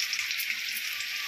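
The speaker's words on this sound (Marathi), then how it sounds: "बघा ह्याचा रंग मस्त चेंज झालेला आहे आणि असंच आपल्याला सगळं तळून घ्यायचं" Alu vadi, colocasia leaf rolls, deep-frying in hot oil in a large kadhai, giving a steady, even hiss of bubbling oil heard close and alone for a brief moment.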